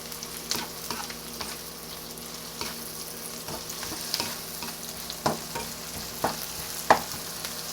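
Garlic stir-fries in a pan after onions, giving a soft continuous sizzle punctuated by irregular scrapes and taps of a spatula, with a few sharper clinks toward the end.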